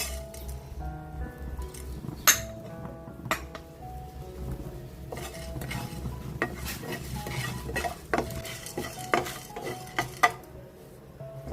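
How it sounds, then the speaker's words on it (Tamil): Dry salt stirred in a pan for idli podi gives a steady scraping rumble and repeated metal clinks of the spoon against the pan, the sharper knocks every second or so, with no talking. "இப்போ உப்பை வறுத்தாச்சு"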